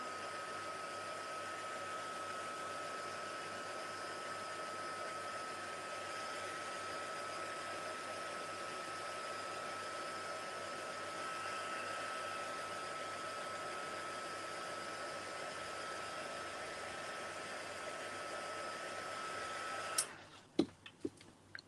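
A heat tool blows on a mixed media artwork with a steady, loud whooshing roar for about twenty seconds. It then cuts off into a few sharp clicks and taps, with no talking over it.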